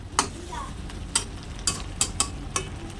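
Fish fat frying in oil in a pan, a low bubbling sizzle broken by several sharp spatters and stirring knocks at irregular intervals.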